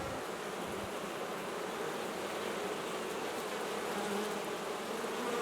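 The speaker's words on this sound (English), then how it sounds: "There's a lot of bees still in here" Dense, steady buzzing of many honey bees inside a hive, close and continuous with no talking.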